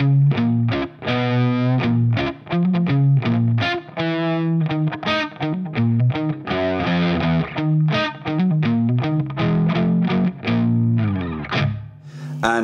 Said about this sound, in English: And then it repeats, so the whole thing played through slowly is this.